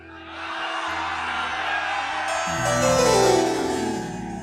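A large audience at a spiritual talk shouts and cheers loudly on request, a sustained roar of whoops and yells that swells toward the end.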